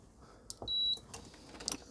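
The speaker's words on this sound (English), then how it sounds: "I've got my multimeter in continuity mode." A multimeter set to continuity mode gives a single short, clear electronic beep, with a few faint clicks around it in a quiet room.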